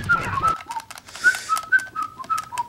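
A person whistles a tune, a quick run of bright, clipped notes alone after a brief lower sound.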